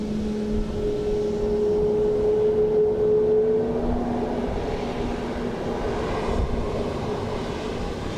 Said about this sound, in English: That was the Emirates startup we heard